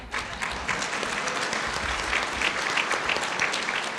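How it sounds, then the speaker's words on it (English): Steady applause from an audience at an event, continuous clapping from many hands filling the room at an even, fairly loud level with no voices over it. "I think we need to have the same round of applause for the judge."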